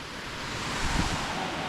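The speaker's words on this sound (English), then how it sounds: "Got the waterfall ripping down there." A mountain stream and waterfall rush nearby on gold-prospecting terrain, a broad, steady roaring wash of water with slight surges and no talking.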